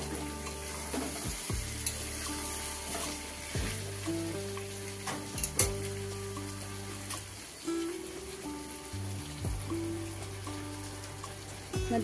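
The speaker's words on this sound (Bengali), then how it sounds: "এই যে মাংস কষানো হচ্ছে" Mutton frying and being stirred in a pan for a spicy red curry, with a steady sizzle broken by repeated scraping strokes and clinks of the spatula, close by and with no voices.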